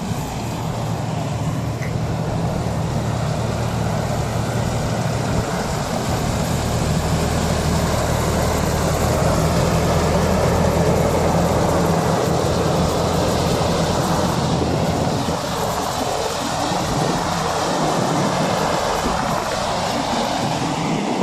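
A New Holland T580B tractor engine runs steadily during orchard spraying of Bordeaux mixture, a loud continuous drone with low harmonic hum and broadband noise throughout, no talk.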